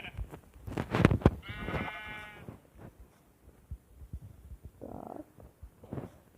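A Minecraft sheep bleats in a short, wavering burst amid game sounds and soft thumps, and a second muffled bleat comes a few seconds later.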